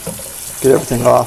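Cold tap water runs over flowers held in a colander and stirred by hand while preparing floral mead. The steady, close rush of water continues under a brief spoken remark.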